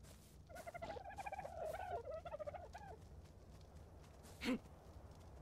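Birds in ARK: Survival Evolved give a run of rapid gobbling, turkey-like calls lasting a few seconds, then a single short squawk after a pause, close and moderately loud over low ambient hum.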